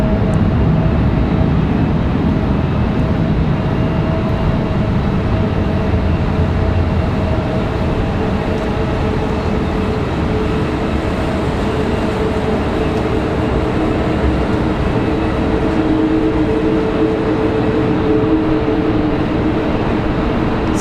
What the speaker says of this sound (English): Sounds like we got a Delta A220 on the move as well